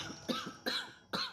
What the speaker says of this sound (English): She chuckles herself into another coughing fit